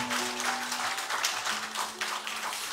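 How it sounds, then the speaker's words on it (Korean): A church congregation applauds in a steady, dense patter of many hands clapping, heard throughout the short stretch with a faint sustained tone underneath. "우리 박수로 환영하겠습니다"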